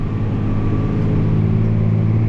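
A tractor engine pulls uphill at full power, giving a loud, steady, low-pitched drone with a deep throbbing hum that holds constant for the whole stretch, with no voices.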